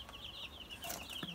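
Chickens on a small farm cluck faintly in a short run of soft, repeated calls over a steady background hum, with a brief rustle partway through.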